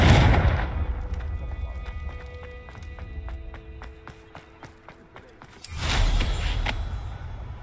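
In the Hogwarts Legacy video game, a Confringo fire spell bursts with a loud, roaring blast. A run of rapid ticking and clattering game effects follows, then another heavy whoosh of fire. Nobody speaks.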